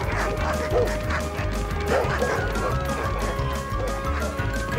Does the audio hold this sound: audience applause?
no